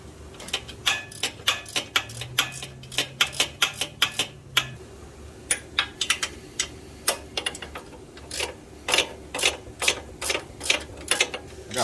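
A hand ratchet loosens two 12 mm bolts holding a bracket during a differential gear reduction install, giving quick rapid clicking bursts with short pauses, close and crisp, and no talk.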